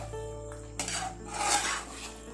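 A spoon scraping and stirring salt into chicken curry in a pot, a short close scrape that swells to a louder rasping stroke with a faint sizzle beneath and no talking.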